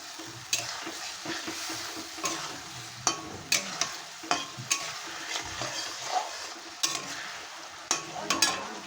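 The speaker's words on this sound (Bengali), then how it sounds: "হলুদ দিয়ে ভালো করে নেড়ে নেব।" Green chilli, ginger and spices with turmeric stirred in a frying pan, a steady sizzle broken by repeated sharp scrapes and clinks of the utensil at an irregular rhythm, close and fairly quiet.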